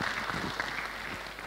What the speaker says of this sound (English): Please give applause to Pak Johan Kip.